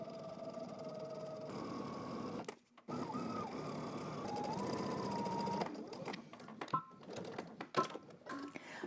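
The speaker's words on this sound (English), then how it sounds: "So I'm going to go back to my normal length stitch." A home sewing machine stitches at normal stitch length in a steady whirring run, pausing briefly and then starting again, with a few faint clicks and quieter stretches toward the end.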